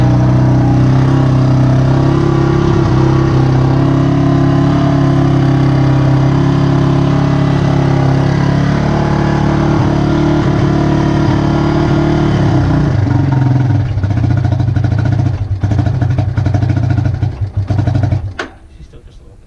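A small engine on half choke idles steadily and loudly up close, a low even rumble that shifts in pitch around the midpoint and cuts out near the end; a voice is heard briefly.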